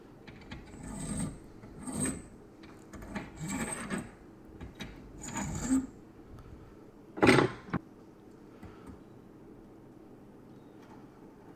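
A hand file deburring the cut end of a pipe, a series of close rhythmic rasping strokes, five or six in a row, then a sharper scrape and a brief quiet tail with no talking.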